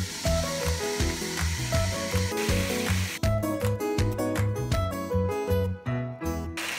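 Beetroot strips with wheat gluten cook in a covered wok after a splash of water, with a continuous bubbling sizzle that stays fairly loud and steady.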